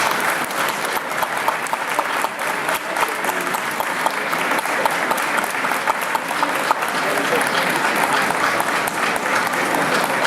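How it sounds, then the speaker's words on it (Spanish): Sustained applause from a seated audience at a rural development event during a bean festival in Colunga, Asturias, steady dense clapping filling the whole stretch with no pauses. "Un aplauso."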